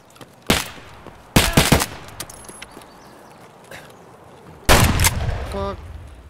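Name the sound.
gunfire in the video game Escape From Tarkov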